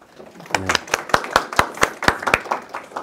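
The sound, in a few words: audience clapping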